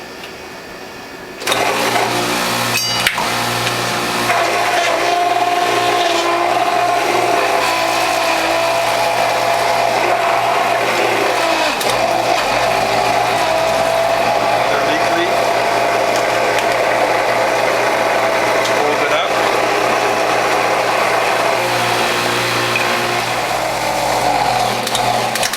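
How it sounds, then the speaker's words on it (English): A juicer motor kicks on abruptly and runs in a loud, steady, straining drone while chewing through fibrous leek leaves, with faint grinding under the hum. "Notice my motor working hard"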